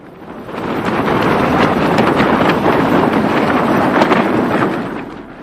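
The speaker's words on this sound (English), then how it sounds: "That night, the predicted windstorm hit camp, ripping tents and blowing away unsecured equipment." Windstorm battering a high mountain camp on Aconcagua, a loud, steady roar of gusting wind that swells in, holds for several seconds, then fades.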